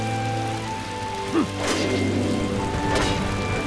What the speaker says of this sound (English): Oh, we got rain. Rain,